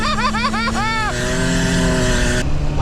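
A WD21 Nissan Pathfinder with an idler arm brace rolls down a driveway, its engine droning loud and close while a higher whine sweeps up and down over the steady motor.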